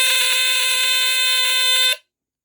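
A used First Alert SA77RF smoke alarm sounds a loud, piercing, continuous electronic tone for about two seconds, then cuts off abruptly into silence.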